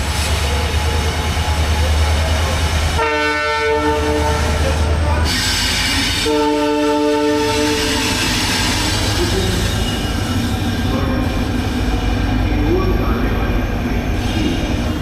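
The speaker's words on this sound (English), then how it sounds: "So that's some EMD which is bringing in some LHB rake on the cornermost line." An EMD diesel locomotive hauls an LHB passenger rake into a station near Jaipur, with a steady loud rumble of engine and rolling wagons and two long horn blasts near the start and middle.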